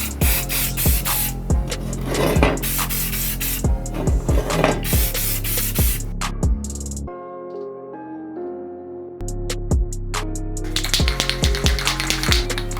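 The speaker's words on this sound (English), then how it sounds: "So all the primer is gonna do is fill these in a little bit more." Spray primer hisses onto a Camaro headlight in short, loud, close bursts, with a couple of brief pauses and a quieter gap midway, and no talk.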